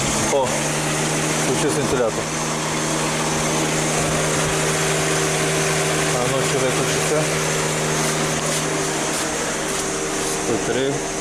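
Steady mechanical hum of a VAZ 2110 radiator cooling fan switching on at 102-103 degrees, running close by, with constant tonal drone and airy whirr, occasional faint knocks, no one speaking.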